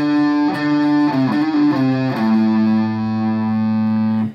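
Distorted electric guitar playing the full opening phrase of a riff, a few quick hammered and pulled notes settling into a long sustained low note, loud and close with no voices.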